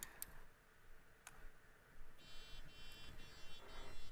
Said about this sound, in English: The threshold was lower than what it was set to, so the alarm went off.